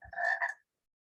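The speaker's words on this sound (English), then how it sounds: "Yes, the frog is croaking." A single short frog croak, close and clear, which stops abruptly and leaves silence.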